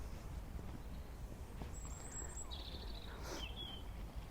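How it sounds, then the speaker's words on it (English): Birds chirp and call in a city park, sparse faint tweets over a soft steady outdoor background with no talking. "But listen at the birds."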